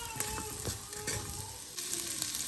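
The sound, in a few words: mixing seasoned pork in a sizzling pan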